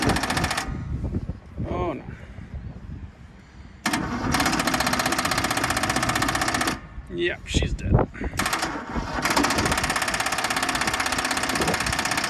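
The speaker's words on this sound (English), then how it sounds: "Got the old lawnmower up and running." An old lawn mower's small engine runs with a loud, rattling drone that cuts out briefly, then roars back and keeps running steadily, with a short burst of noise between.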